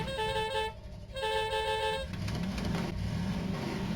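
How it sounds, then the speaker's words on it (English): A car horn honks in the video game Voices of the Void, two sustained blasts close together over a low engine rumble, followed by continued vehicle driving noise. "Oh, I forgot we can honk the horn."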